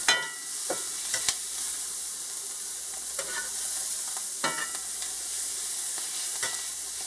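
Yellow onions frying and browning in a pan for ground beef stroganoff, giving a steady close sizzle broken by several sharp scrapes of stirring, with no one speaking.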